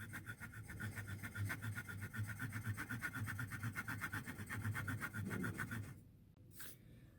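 Steady rhythmic rasping strokes of a saw or file cutting grooves into a small wooden guitar bridge for a tin can guitar, close and continuous for several seconds before stopping.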